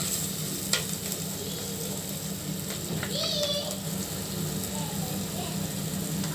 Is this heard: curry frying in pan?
yes